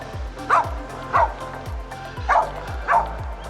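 Dogs bark near an airport on a trip to Australia, four evenly spaced sharp barks at a moderate distance over a low rumbling background.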